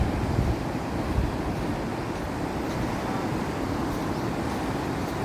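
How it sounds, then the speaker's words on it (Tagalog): Strong sea waves rolling onto a beach on a tropical island, a steady loud roar of surf mixed with wind buffeting the microphone, constant throughout with no talk. "Pero malakas yung alon."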